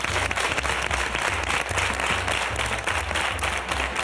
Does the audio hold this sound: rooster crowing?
no